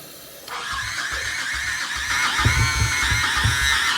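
A Honda Shadow Sabre 1100 motorcycle engine cranks repeatedly in a rhythmic chugging pattern, struggling to catch, with a high whine running over it.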